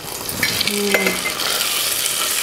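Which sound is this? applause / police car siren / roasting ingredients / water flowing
roasting ingredients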